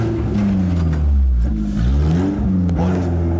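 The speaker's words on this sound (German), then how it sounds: "Jetzt kann ich mal Gas geben." A stunt vehicle's engine revving loud and close as the driver accelerates on a slippery volcanic set, a low throaty drone rising and falling in pitch through several surges with no talk over it.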